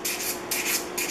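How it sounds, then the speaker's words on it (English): 150-grit sandpaper on a rubber sanding block rubs along the edges of a Stanley No.65 low angle block plane, two or three close, steady scratchy strokes with no voices. "I use 150 grit paper on my rubber sanding block"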